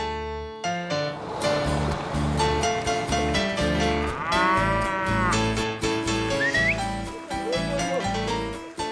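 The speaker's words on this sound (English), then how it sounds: "Here they raise cows that are as at home as they would be in mountain pastures." Cattle raised in a hedgerow-bordered meadow of Colombia's Cauca department low repeatedly in overlapping moos, several animals sounding close and loud with a continuous farm background.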